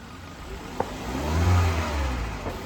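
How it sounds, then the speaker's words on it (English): A Hyundai Accent engine with a rough idle rises in a steady rev as the throttle is opened, swelling to a peak and easing back. The car is close and loud, with a sharp click near the start and no talking. "Turn the throttle up a little bit."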